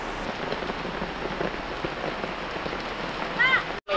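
Steady rain patters continuously on a surface, a dense hiss throughout, with a brief cutout near the end.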